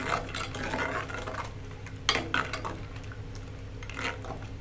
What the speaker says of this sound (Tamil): இதை நல்லா கலந்து விட்டுருவோம்.